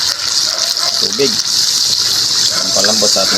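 Water gushes into a cooking pot of pork with peas, a loud, steady rushing pour up close that fills the whole moment, with a voice speaking briefly over it.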